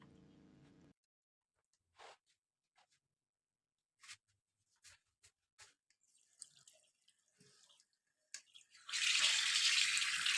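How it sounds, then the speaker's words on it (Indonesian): Raw chicken pieces for ayam betutu, already soaked with lime juice, rinsed under a running kitchen tap: scattered faint drips and splashes, then a steady close rush of flowing water at the end. "Langsung aja aku cuci kembali di air mengalir ya"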